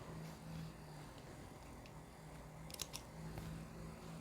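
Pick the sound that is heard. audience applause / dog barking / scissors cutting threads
scissors cutting threads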